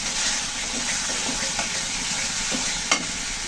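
Spice paste fries in oil, and the cooked masala has released its oil. The sizzle is a continuous close hiss, broken by a few sharp crackles and the scrape of stirring.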